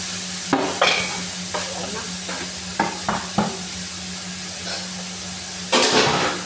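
Carrots stir-fried in a hot pan: an ongoing sizzle with repeated scraping and tossing strokes of a utensil against the pan, close up.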